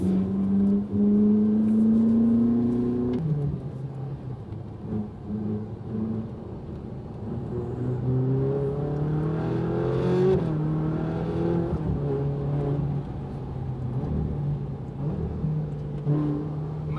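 A Ferrari cruising in fifth gear holds a steady, droning engine note from inside the car, with the pitch slowly sweeping up and down as the revs change.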